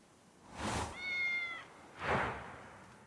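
A cat in a Korean drama scene gives a single drawn-out, clear meow, framed by two breathy, rustling bursts, close and moderately loud with no talking.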